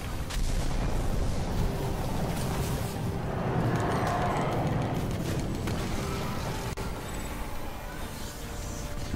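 Heavy gunfire and explosive blasts from an online shooter game roll on continuously at high loudness for the whole stretch, with dense low rumble and sharp cracks layered throughout.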